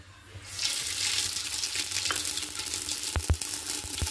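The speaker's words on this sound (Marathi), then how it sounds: "आपण अगोदर मुरमुरे परतून घेतोय चिवडा करण्यासाठी।" Puffed rice and mustard seeds for chivda crackle and hiss in hot oil in a pan, a steady sizzle with a couple of sharp knocks near the end.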